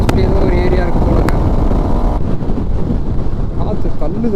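Strong wind buffets a motorcycle cruising on a highway on a long-distance ride to Ladakh, a steady loud roar of wind noise and engine drone throughout, with a voice talking over it.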